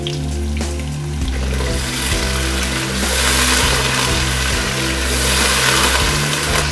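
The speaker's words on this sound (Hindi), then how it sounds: "हम इनमें पानी डालेंगे।" Water poured into a deghchi of softened onions frying in ghee for chicken white pulao sets off a loud, steady sizzling hiss that lasts throughout, over a sustained droning tonal background.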